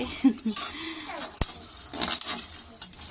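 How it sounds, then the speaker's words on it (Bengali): Flattened rice (chira) frying and being stirred in a metal pan, with scattered clinks and scrapes of a utensil against the pan over a low background. "এখানে চূড়াটাও ভেজে নিয়ে নিব"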